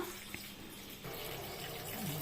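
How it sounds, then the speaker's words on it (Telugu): Water runs and pours into a thick-bottomed kadai holding jaggery on the stove, a steady close splashing flow that swells louder midway, with no talk. "వాటర్ కొంచెం బెల్లం కరగాలి కదా"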